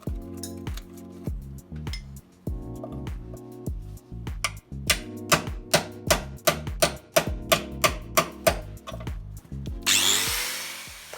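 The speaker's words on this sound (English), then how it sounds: "I opened the seams a bit with a screwdriver to be able to get the chisel in." A chisel works its way into the body seams of an Integrale car, pried open first with a screwdriver, near the metal framework. Close, repeated sharp metallic taps and ringing clinks grow quicker and louder, ending in a brief scraping hiss, with no talking.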